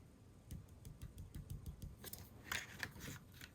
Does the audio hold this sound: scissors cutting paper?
yes